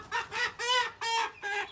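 A laying hen being settled into a nest for brooding clucks in four distinct drawn-out calls, close and clear, with short pauses between them and no talking.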